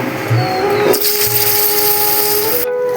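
A mixer grinder whirs steadily while grinding cumin seeds into a paste, a loud, continuous electric motor drone with a high whine that cuts off abruptly near the end.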